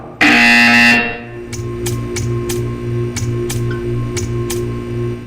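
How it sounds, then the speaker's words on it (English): A loud electronic buzzer blares for about a second in Portal 2, followed by a quieter hum with a series of regular sharp ticks, like a game's timer sounding. "You will hear a buzzer."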